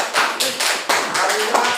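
Classroom applause from students in a teacher-training session, a loose burst of overlapping hand claps that rises and falls in waves, fairly close and steady for under two seconds.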